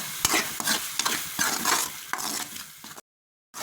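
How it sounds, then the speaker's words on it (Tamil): Masala for chilli chicken gravy sautés and sizzles in a pan, with steady broadband frying hiss and repeated stirring scrapes. It stays fairly loud and close, then cuts to silence near the end. "நல்லா வதக்கட்டும்"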